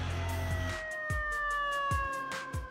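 Fire truck sirens wail through New York City streets, loud and near, with rising and falling tones over low vehicle rumble and sharp bursts of horn or siren chirps.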